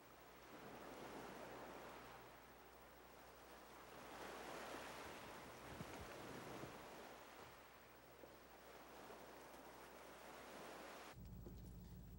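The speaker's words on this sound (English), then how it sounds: "and the waves breaking." Ocean waves break steadily on an Alaska shoreline near Valdez after the 1989 Exxon oil spill, a continuous low roar of surf with slow swells rising and falling, faint and distant, with wind and no voices.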